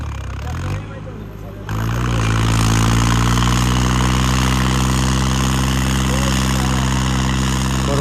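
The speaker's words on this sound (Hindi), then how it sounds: "पूरा गूंज रहा है भाई ट्रैक्टर" A tractor engine roaring after a stall during a pull against a bulldozer: a quieter rumble, then a sudden rise into a loud, steady, deep drone that holds close and strong to the end.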